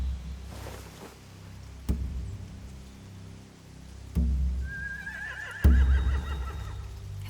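Horses neighing, a few separate whinnies spread across the stretch, with dull thuds and shuffling between them and a faint steady background hum.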